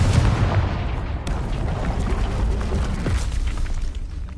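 A Confringo blasting spell goes off in Hogwarts Legacy, a loud booming explosion with a dense rumbling body that surges at two points and rolls on without a break.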